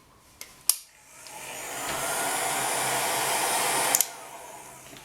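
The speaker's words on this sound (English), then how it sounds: "Now I'll bring over our heat gun on the hottest setting but on the lowest wind speed." A heat gun set to its hottest setting and lowest fan speed switches on with a click and runs as a steady, loud whooshing blow for several seconds before clicking off.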